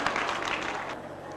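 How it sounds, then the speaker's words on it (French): A spelling contest audience applauds a candidate, a dense burst of close clapping that holds steady and then fades slightly toward the end. "On applaudit."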